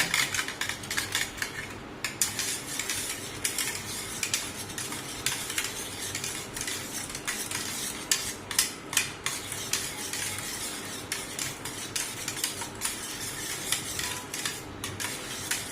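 A dahi bhalla mixture is stirred in a bowl, with a steady scraping, clinking rhythm of a spoon against the bowl throughout, fairly close and with no talking.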